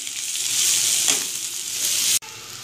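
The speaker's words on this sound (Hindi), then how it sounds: "ठीक है, प्याज फ्राई हो गया" Onion frying in a pan for a spicy mutton karela dish, a loud, bright continuous sizzle with a brief stir partway through, cutting off abruptly near the end.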